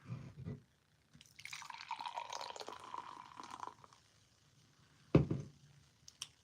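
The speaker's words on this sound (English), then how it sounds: "Let's pour it in." Strawberry-scented drink is poured into a glass as a steady liquid stream that lasts a few seconds. A sharp knock from the can or glass follows, then small drips.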